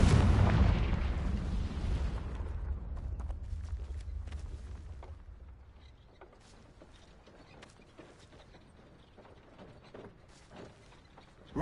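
A Confringo fire spell from Hogwarts Legacy detonates with a loud, deep booming blast that rolls off over a couple of seconds, followed by scattered clicks, crackles and small mechanical impacts fading into quieter ambience.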